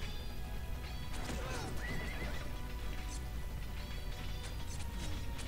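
Cavalry in the war strategy game Cossacks 2 charges with a rolling clatter of galloping hooves and a sharp neigh cutting through, set against a constant busy battle din at steady loudness.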